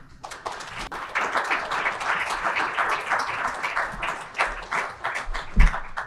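Audience applause at a government conference and award ceremony, a burst of many hands clapping that swells, holds steadily for several seconds and tapers at the end, with no talk over it.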